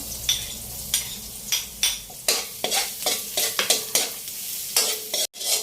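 Onion and garlic sautéing in a pan, stirred in repeated scraping, sizzling strokes over a steady low fry, close and fairly loud, with no talk.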